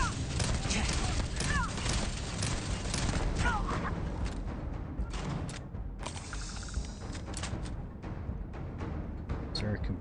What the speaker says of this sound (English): More turrets, and they are targeting me.